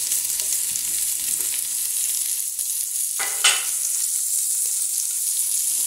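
Chopped onion dropped into hot oil in a pan for shrimp bobó, giving a steady close sizzle with a brief louder spatter burst partway through, no voices.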